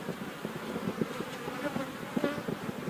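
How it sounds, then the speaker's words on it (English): Honey bees in an open hive during an inspection in hot weather, a dense, steady low buzz of many insects close by with small fluctuations in intensity and no talk. "So this hive is doing pretty well."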